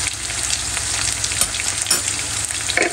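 Cumin and carom seeds frying with onions in a hot pan, a loud, steady close sizzle with occasional stirring scrapes throughout.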